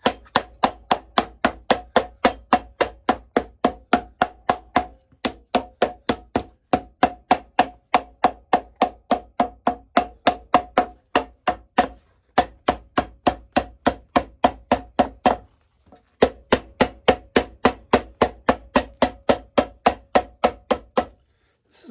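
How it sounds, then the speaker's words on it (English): Steady, evenly spaced hammer blows on the welt of an Alden Indy leather boot, loud and close, running in long rapid series broken by brief pauses. "It's hammer time."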